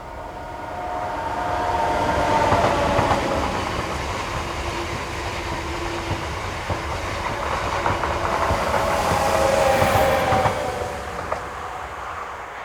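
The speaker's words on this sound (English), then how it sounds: "we see this southbound working, headed by one of RENFE's new Class 256 Euro 6000 electrics, number 108." A RENFE Class 256 Euro 6000 electric locomotive heading a southbound train through Villamarín station in Spain, a loud rumbling pass with wheel clatter, brake-like squeals and hiss, swelling and easing over several seconds.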